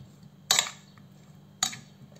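Seasoned shrimp stirred with chili in a dish for spring rolls, two distinct clinks of utensil against the bowl about a second apart, close and fairly quiet over a low hum.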